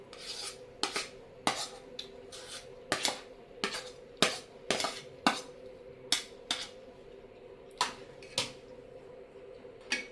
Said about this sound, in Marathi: आता ह्याच्यामध्ये मी हे ओलं जे आपलं खोबरं होतं ते आपण चांगलं परतून घेऊया